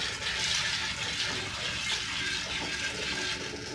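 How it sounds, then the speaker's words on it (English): Tap water pours steadily into a pot of dry beans being covered before pressure canning, a continuous close, full rushing stream with no talking over it. "all I'm going to do now is run some water in my pot to cover the beans"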